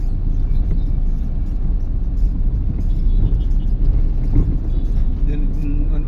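Heavy road traffic near an LRT line, with a steady dense rumble of cars and buses and vehicles passing close by.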